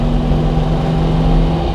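A 1958 Porsche 356 A engine rated at 135 PS, a loud, steady, rough idle-to-rev drone close up, holding a sustained low tone throughout.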